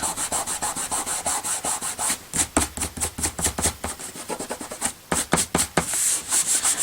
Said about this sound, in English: if I give that a rub, that will come off